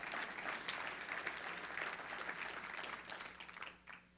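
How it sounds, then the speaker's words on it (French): A church congregation at a sermon on the Holy Spirit claps in a sustained, fairly close round of applause that thins and fades near the end. "Là, vous avez le droit d'applaudir."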